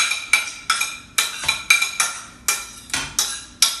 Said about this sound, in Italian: Lo andiamo a mettere in una ciotola.